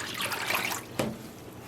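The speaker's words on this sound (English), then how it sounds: "I want to add a little bit more water" Water pours into a dye pan where multi-colored tweed yarn floats, a soft, steady trickle and splash close by, with one brief louder slosh partway through.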